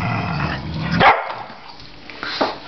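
Small dogs bark and yip close by while squabbling over a bone, with a sharp bark near the middle and a few lighter yelps after it.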